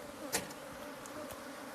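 Honey bees buzz around their hive, a soft continuous drone with a few brief nearer passes of single bees, faint and close with no talking.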